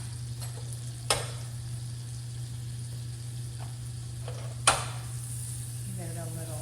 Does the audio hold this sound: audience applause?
no